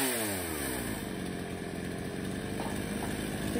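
A Japanese-made chainsaw engine runs steadily near the listener, a smooth continuous buzzing drone with a faint rattle, alone without talk.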